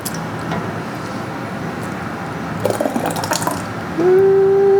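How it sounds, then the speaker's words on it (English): Homemade tomato sauce poured from a measuring cup into quart canning jars, a steady liquid pour with soft clinks of glass and cup, rising into a fuller glugging fill toward the end, close by and without talk. "So I use a measuring cup to pour into my quarts."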